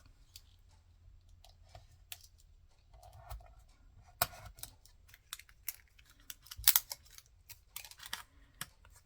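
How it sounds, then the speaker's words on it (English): A knife cuts a photo slide, giving faint, scattered clicks and scraping snips at close range in an otherwise quiet room. "we have to get my knife and cut this off"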